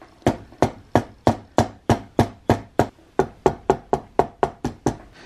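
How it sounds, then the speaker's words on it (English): A sequence of about sixteen sharp, evenly spaced strikes, loud and close, recurring roughly every third of a second, heard while assembly screws are fitted into a patch box on a Golden Age flintlock muzzle loader. "Couple screws back in it."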